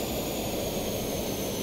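Several jet engines in the Stormworks game rev very high together, giving a loud, steady, continuous roar with a hissing whine that holds unbroken throughout.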